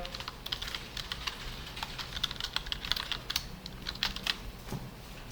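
Typing on a computer keyboard while writing HTML code, a close run of irregular light key clicks with no talk.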